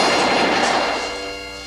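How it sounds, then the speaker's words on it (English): Rapid burst of machine gun fire in a sitcom scene set on a naval island base, loud and broadband at first and then fading away over under two seconds, with no talk. "it sounds like machine gun fire"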